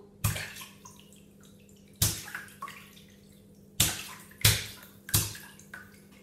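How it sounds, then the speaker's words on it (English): Five separate splashes of water in a bowl, close and fairly loud, spaced irregularly about a second apart with quiet gaps between. "Can you hear me splashing?"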